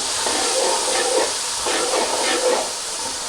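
Chopped onions go into hot oil with fried spices for a Bengali okra dish, making a steady, fairly loud sizzling hiss that holds throughout.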